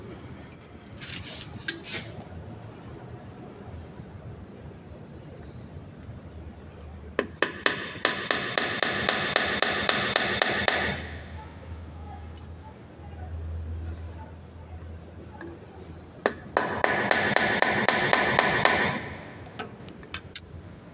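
Two bursts of rapid metallic tapping as an emulsion tube is hammered into a Keihin PWK carburetor, each a quick run of sharp strikes lasting a few seconds, separated by quieter shop noise and a low hum.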